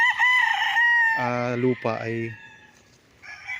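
Chickens and a rooster on a walled farm lot in Liliw, Laguna: a loud, close rooster crow with drawn-out harmonic notes, surrounded by clucking, while a person speaks briefly over the birds.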